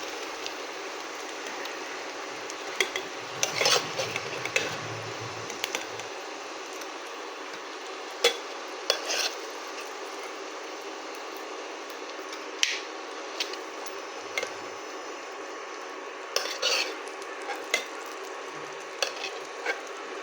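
Fish roe sizzles steadily in a hot pan over low heat, with a continuous frying hiss broken by a few sharp clicks and scrapes of stirring, heard alone and close.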